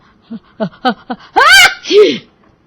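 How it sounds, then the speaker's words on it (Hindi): A woman's loud, sharp sneeze bursts out after a few quick breathy intakes, followed by a voiced exclamation, all close and prominent. "अचानक उसे एक जोरदार छींक आई"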